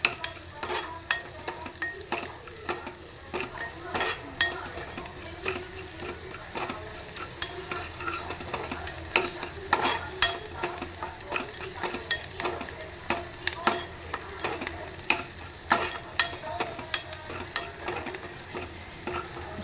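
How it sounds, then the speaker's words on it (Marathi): Onion and mild green chillies fry in a pan with a continuous close sizzle, broken by frequent sharp spatula scrapes and taps in an uneven stirring rhythm. "आपला हा कांदा छानपैकी फ्राय करून घेऊया"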